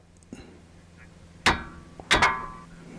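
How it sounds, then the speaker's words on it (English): Steel wrench struck hard to break loose a brake caliper bolt on a Honda Accord front brake, two loud metallic clangs about half a second apart with ringing tails, preceded by a small knock. "hit the wrench to break the bolt loose"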